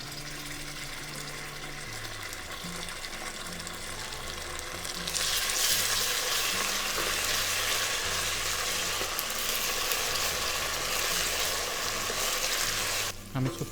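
Ginger garlic paste dropped into a hot pan for urad dal, a low background hiss that flares into loud, steady, broad sizzling frying close by, continuing evenly for several seconds before stopping abruptly.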